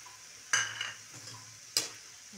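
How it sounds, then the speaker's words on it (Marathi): Noodles tossed with soy, red chili and tomato sauces get stirred in a pan for veg Hakka noodles, two sharp scraping strokes over a faint steady sizzle, close and without talk. "चांगलं मिक्स करून घेऊ"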